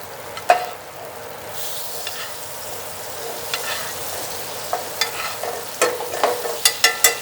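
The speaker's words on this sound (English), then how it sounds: "I'm gonna start basting those steaks." Steaks basted with melted black garlic and rosemary butter in a cast iron pan give a steady sizzle, with a run of spoon splashes and clinks growing more frequent toward the end, close and fairly loud.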